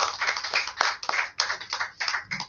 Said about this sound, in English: with a round of applause, let's welcome him